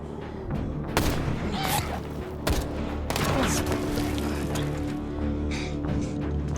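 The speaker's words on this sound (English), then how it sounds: "Who the hell is shooting at us?" Repeated gunfire in a tense standoff, several loud sharp shots cracking close by over a dense, constant background din, with bursts near the start and middle.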